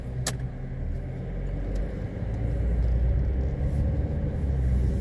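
Car interior on a drive, with steady low engine rumble and road noise filling the background throughout, no talking.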